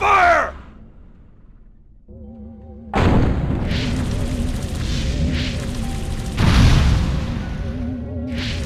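Gunfire and explosions burst out in the Destroy All Humans! video game, a loud sustained barrage of booms and blasts after a quieter lull, with a heavier blast partway through.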